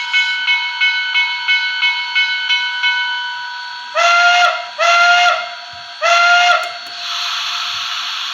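A model steam locomotive sound decoder in a PRR I1sa at a crawl: soft, evenly spaced chuffs give way to three long, loud whistle blasts, then a steady hiss.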